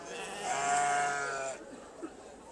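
A Valais Blacknose sheep gives one drawn-out, wavering bleat at a livestock show, loud and close, trailing off into faint background noise from the showground.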